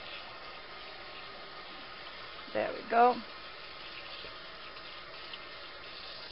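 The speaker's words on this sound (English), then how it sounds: "make sure that the water reaches everywhere, to rinse off the excess of salt that we may have" Tap water runs briefly over salad leaves being rinsed in a sink, with a couple of short splashing bursts under a steady background hiss while a person speaks.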